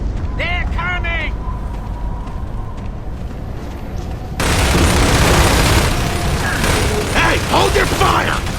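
Heavy gunfire and a large explosion in the video game Gears of War 3: an ongoing noisy rattle of mechanisms and shots breaks into a loud, dense booming burst partway through, with voices shouting over the battle at the start.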